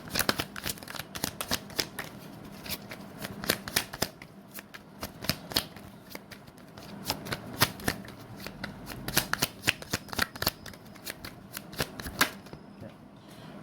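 Tarot cards riffle and flick in a steady run of rapid, crisp snaps, close-up and continuous with brief pauses, lasting over ten seconds.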